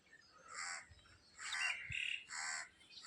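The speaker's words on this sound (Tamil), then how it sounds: "காக்காய், கொக்கு, நாரை எல்லாம் வந்துருக்குதுங்க" Crows caw over a freshly ploughed farm field where birds gather to pick insects from the turned soil: three or four harsh calls spaced apart, moderately distant against a soft outdoor background, with no talking.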